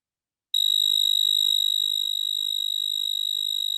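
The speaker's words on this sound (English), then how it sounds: "So this is the sound of a sexy cricket." A synthesized male cricket song with a fast pulse rate: a steady, pure, high-pitched trill that starts abruptly after a short silence and continues evenly and loudly on its own.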